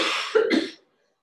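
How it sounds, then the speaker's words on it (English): A single short cough by a yoga instructor irritated by a nearby heater, sharp and close, two quick bursts ending abruptly in silence. "It's making me cough."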